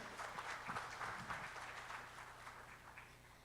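Audience at a state-level HR professionals' conference breaks into sustained applause, a dense wash of claps heard faintly at a distance, tapering slightly toward the end.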